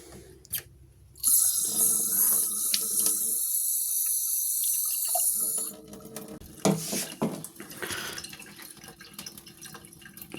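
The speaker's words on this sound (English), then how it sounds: "So in order to get the right amount of water in the bottle warmer, I just use one of these storage bottles" Water poured from a hospital storage bottle into a baby bottle warmer at home: a steady bright splashing stream lasting several seconds, then quieter clinks, drips and handling sounds.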